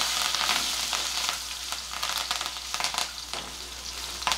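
Curry leaves and two green chillies crackle and spit in hot oil with asafoetida in a frying pan, a continuous loud sizzle broken by sharp bursts of popping.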